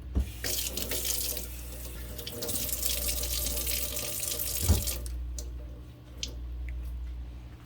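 Cold tap water runs steadily into a sink while the wavy saran hair of a Rainbow High or Monster High G3 doll is washed. The flow briefly cuts out and then resumes, close by, with no voices.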